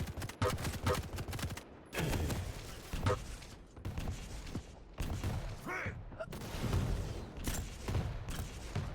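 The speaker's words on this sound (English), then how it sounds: "You just got that kill with the machine gun" Rapid machine gun fire in a Quake Champions duel, bursts of sharp cracks in quick succession under a busy game mix, with brief gaps between volleys.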